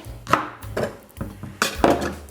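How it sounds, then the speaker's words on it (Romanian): A knife cuts through a firm quince, halving it: a few distinct crisp cuts and knocks on a board, close and clear with short pauses between, no talking. "luăm fiecare gutuie, o tăiem în două"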